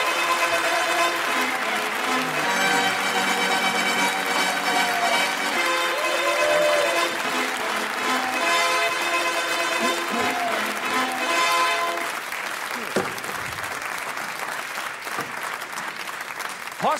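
Studio audience applause on a German TV comedy show, sustained dense clapping with bright music over it for about twelve seconds, then thinning and quieting as the music drops away and a few sharper sounds break through.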